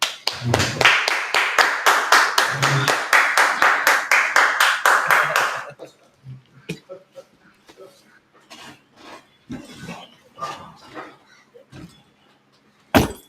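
A room of people at a religious class claps in a fast, rhythmic unison beat for about five seconds, loud and close, then it stops and scattered talk and faint noises follow, ending with a sharp knock.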